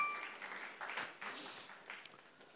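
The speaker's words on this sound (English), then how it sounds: "big round of applause for Siloni, 7 points there." A studio audience on a live quiz show gives a brief, fairly quiet round of applause for a contestant scoring points, a steady patter that swells and fades over a couple of seconds.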